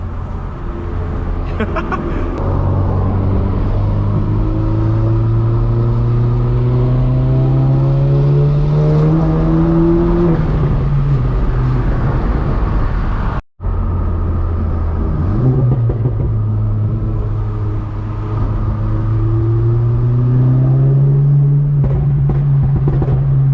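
From the cabin, a VW MK7 Golf's turbo engine with an aftermarket intake climbs steadily through a long pull, drops briefly at a gear change, then rises again, its loud droning hum and intake whir constant throughout.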